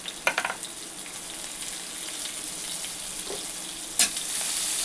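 Cumin seeds, crushed coriander and chopped green chili frying in hot oil in a pan for a bakery-style khari patties filling, giving a steady close sizzle with a few sharper spits and pops, no talking.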